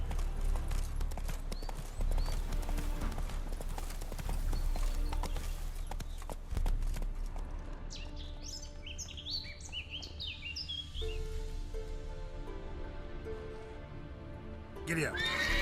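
A horse gallops in The Witcher 3 video game, with steady clip-clop hoofbeats under a continuous low rumble, chirping birds joining midway and a short sharp sound at the end.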